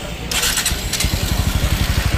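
A motorcycle engine catches after a short crank, settling into a quick, even, throbbing idle putter, loud and close throughout.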